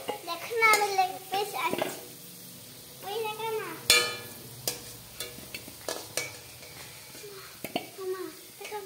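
Potatoes fry in hot oil, then whole spices hit the same oil, giving a soft crackling sizzle and occasional utensil scrapes beneath intermittent talk from a woman and a child.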